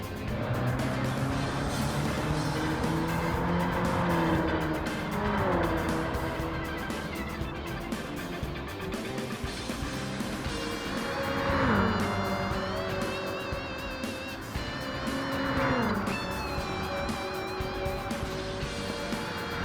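Hyundai Ioniq 5 N electric hatchback racing in Gran Turismo 7, a steady whining synthetic drive tone rising and falling with speed through corners, loud and continuous with other cars audible around it.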